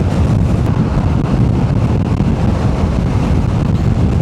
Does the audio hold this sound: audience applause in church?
no